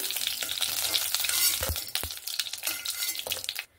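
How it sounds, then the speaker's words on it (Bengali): Lentil paste fritters fry in oil with a bubbling sizzle, broken by thumps and scrapes from stirring, then the sound suddenly cuts off. "এবার আমি বাদ বাকি যে বড়াগুলো আছে, ডাল বাটাগুলো আছে, সেগুলো ভেজে নেব"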